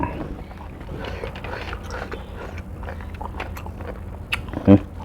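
Someone chews crunchy grilled beef close up, with steady crunching and biting over background noise and a brief louder bump near the end.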